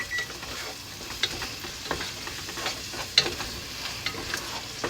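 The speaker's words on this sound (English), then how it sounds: "We're gonna stir this really well." Spoon stirring an egg roll slaw mixture with Cholula hot sauce and ginger paste in a hot pan, a faint steady sizzle with repeated soft scraping strokes, no voices.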